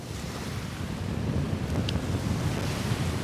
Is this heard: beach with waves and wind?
yes